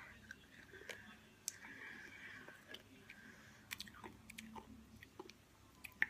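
Someone chews grape Nerds candy close to the mic, with soft crunching and sharp little clicks and bites scattered over a quiet background.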